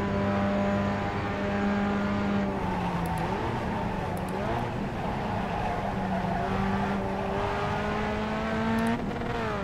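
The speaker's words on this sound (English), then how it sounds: "you could hear me just locking the brakes up all the way into the corner" A race car in the iRacing sim brakes hard into a corner, a steady loud engine drone dropping in pitch with tyre squeal and locking brakes, then revving back up over nearly ten seconds.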